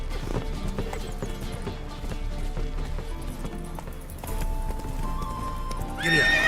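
A horse gallops in The Witcher 3: Wild Hunt with fast, even hoofbeats, then gives a loud, close neigh near the end. A voice speaks briefly under the hooves.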